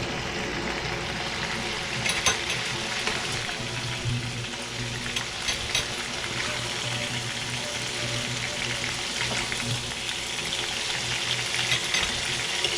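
Meatballs frying in a pan for about ten minutes make a dense, continuous sizzle with fine crackles and pops, loud and close throughout.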